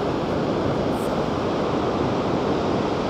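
Voringsfossen waterfall roars as wind blows spray back up, making a dense, steady broadband rush with a constant, unbroken wash and wind buffeting the microphone.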